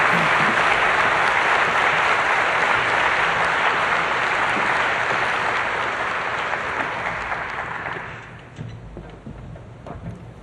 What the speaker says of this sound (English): I'd like you all to give a round of applause for our runner-up